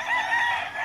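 A Gilmore Raptor cross gamecock crows loudly and close by, one sustained unbroken call that fills the entire short stretch with no voices over it.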